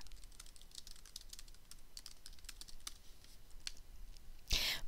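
Quiet, light keystrokes tap out a new folder name on a computer keyboard in an irregular, close rhythm, ending with a sharper click.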